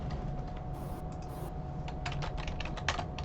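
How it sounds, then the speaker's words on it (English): Computer keyboard typing, a rapid run of light clicking keystrokes close up, sparse at first and then denser in quick bursts toward the end, with no talking. "Just typing that for you"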